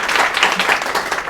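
A crowd at a coaching institute event in Sultanpur claps for students selected in Agniveer army recruitment, a dense, steady patter of many hands throughout the short stretch.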